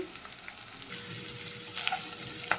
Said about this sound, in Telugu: ఇంకా ఆయిల్లోని ఇంకా బాగా ఫ్రై అయిపోవాలండి